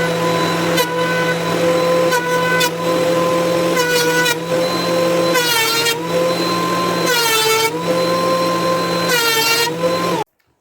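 A power planer feeding wood boards for an acoustic guitar top, running as a loud steady whine with a strong hum, punctuated by repeated rising and falling bursts as each board passes through, then cutting off abruptly.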